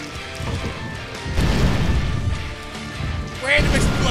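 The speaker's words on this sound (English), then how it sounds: "Random explosion." A loud, rumbling explosion with crashing debris during a steel cage deathmatch in an empty arena, over a dense, noisy background, followed by another burst near the end.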